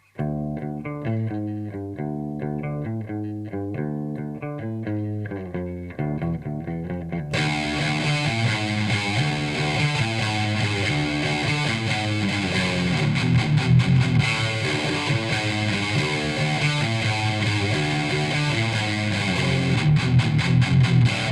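Electric guitar played through a Dark Triad overdrive distortion pedal with mids scooped for an old-school 80s thrash metal tone; a clean-ish riff opens, then a dense, loud distorted chug kicks in around seven seconds and drives steadily to the end, no talking.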